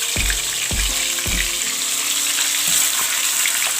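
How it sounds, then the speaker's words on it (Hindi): Chicken with ginger-garlic paste frying in hot oil in a pan for a koyla chicken karahi, a steady broadband sizzle throughout with a few sharp clatters near the start, close and fairly loud with no talking. "इसको मैं फ्राई करती हूँ"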